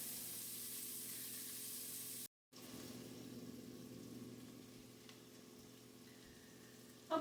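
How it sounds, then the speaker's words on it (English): Chopped onion simmering in a soup pot for corn chowder, a steady soft sizzle and bubbling hiss that continues quietly, briefly cut off once, with no voices. "I'm going to go ahead and let that simmer for a little while"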